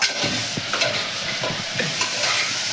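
Mixed vegetables for khichdi are stirred in a hot pan, giving a loud, close, continuous sizzle with repeated scraping strokes of a spoon.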